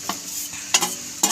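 A spoon stirs cooled tempering in a pan while making a chutney: three distinct scraping strokes against metal over a faint background hiss, close and crisp.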